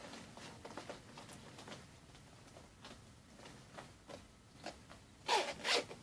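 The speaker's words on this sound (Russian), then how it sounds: "Замки все работают." A leather bag's zipper pulled open and shut, two quick rasping bursts near the end after a stretch of soft handling rustle, close and clear with no talking.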